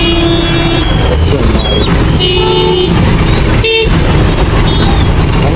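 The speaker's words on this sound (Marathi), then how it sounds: "आणि ट्रॅफिकमध्ये आपल्याला लोकांच्या हॉर्नची वेगवेगळी व्हरायटी बघायला मिळते" Car horns honk in dense traffic at Katraj chowk, several short and sustained toots of varying pitch overlapping above a loud, continuous rumble of engines and road noise.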